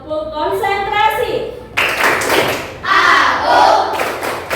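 Schoolchildren chant and clap through a concentration clapping routine. A sung, voiced call comes first, then loud rhythmic group claps and thumps mixed with children's voices.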